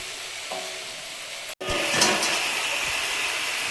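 Prawns coated in salt and turmeric drop into a hot pan of half-fried food, setting off a loud, steady sizzle after a brief pause, with the frying hiss continuing close and constant.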